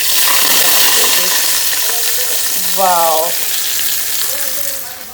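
Hot curry leaf tadka sizzles and crackles loudly in a pan, a dense steady frying hiss with a brief spoon or pour sound midway, while someone speaks faintly under it.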